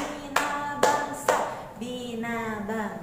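A classroom group of schoolchildren at SDIT Bina Bangsa, an Indonesian Islamic elementary school, claps in a rhythmic school cheer, sharp loud claps in a short pattern, with voices chanting in the background.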